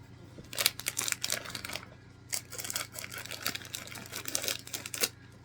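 Quiet crinkly snipping and rustling in short bursts as a sandwich cookie package is cut open with scissors and pulled open, with pauses between.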